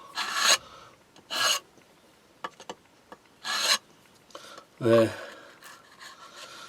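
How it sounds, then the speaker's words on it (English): A chisel scrapes wood on a domino stand in several short, rasping strokes, separated by quiet gaps and a few light taps. A brief spoken word comes near the end. "Just get it out with chisel."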